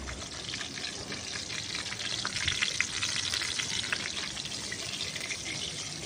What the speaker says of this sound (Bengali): লঙ্কাটাও আমার ভাজা হয়ে গেছে এই তেলের মধ্যে